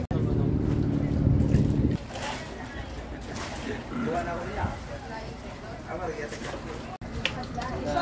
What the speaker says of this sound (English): More dive boats arrive, others continue to another dive site.